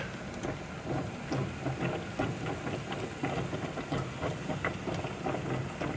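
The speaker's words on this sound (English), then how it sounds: "She's perking away, building a head of steam on her." Coffee bubbles and perks in a stovetop percolator with a steady, dense gurgling and hissing that runs without a break, close and moderately loud, with no talking.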